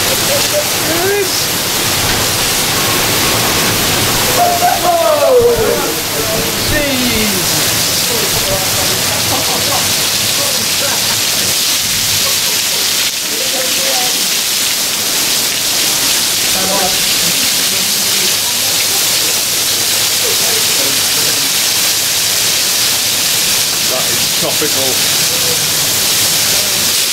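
Torrential rain pours down during a severe thunderstorm chase near Sallisaw, Oklahoma, a dense continuous hiss of heavy rain with gusts, and voices speaking briefly early on.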